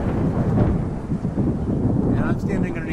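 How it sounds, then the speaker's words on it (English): Thunder rolls after a lightning strike during a rainy outdoor rally, a loud, low rumble that swells and fades over a few seconds with some wind noise. "And that was a big strike of lightning."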